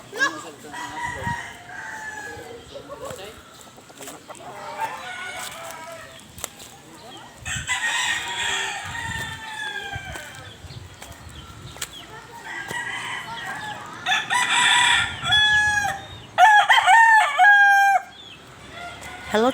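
Farmyard chickens cluck and a rooster crows loudly near the end, with people talking intermittently throughout.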